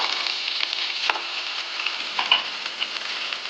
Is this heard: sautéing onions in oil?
yes